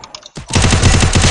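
Rapid automatic gunfire in a 4v4 online shooter match, a burst of close, loud shots after a few fainter ones.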